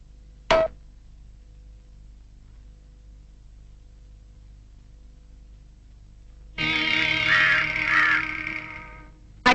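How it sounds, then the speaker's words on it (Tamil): Crow cawing, one short call followed after a pause by a longer harsh caw, clear and fairly close against a quiet background. "அடடா, காக்காய்க்கு சாதம் போட மறந்துட்டேனே"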